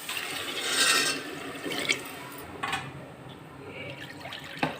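Water splashes into a pan of browned matar paneer masala in a short rushing pour, then fades to quieter trickles and faint kitchen clatter.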